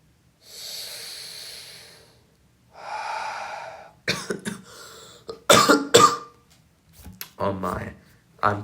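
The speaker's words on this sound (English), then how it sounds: "I'm coughing a lot recently." Two long, heavy breaths are followed by a burst of sharp, close coughs, then a few rougher throat sounds and brief voice at the end.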